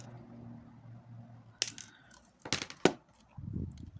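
Small scissors or cutters snip two short pieces of Cooper wire for a handmade keychain, giving a few sharp, close metallic clicks after a quiet stretch.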